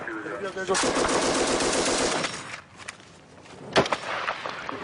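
Sporadic gunfire in combat in Afghanistan: a long, loud stretch of rapid automatic fire, then a quieter gap and one sharp shot nearby, with voices under the shooting.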